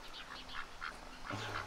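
Faint, rapid quacking from farm ducks, a short series of nasal calls at a middle distance over a quiet outdoor background.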